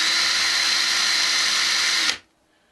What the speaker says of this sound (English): So you just kind of cut a little bit of a groove into it.